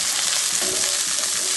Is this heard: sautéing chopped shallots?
yes